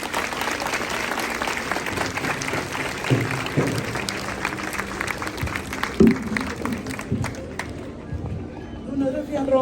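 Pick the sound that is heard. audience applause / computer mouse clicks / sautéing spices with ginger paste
audience applause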